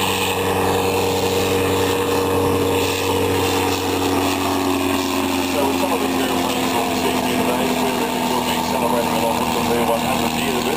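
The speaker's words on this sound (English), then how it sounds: "also running a rotary engine" A WW1 Nieuport 11's rotary engine runs at an airshow, a steady, buzzing drone with a throbbing tone, continuous and fairly loud for the whole stretch.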